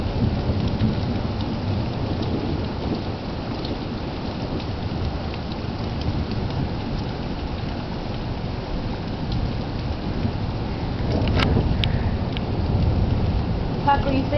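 A thunderstorm pours steady heavy rain with rumbling thunder throughout, the thunder swelling louder near the end; a voice can be heard faintly under the storm.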